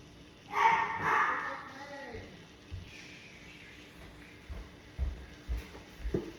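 Puppies yip and bark in a kitchen during cooking, with a burst of high yelps early on, then scattered short yips and thumps as a person speaks softly to soothe them.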